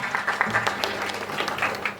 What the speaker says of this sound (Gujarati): એક વાર તાળીઓ થઈ જાય જોરદાર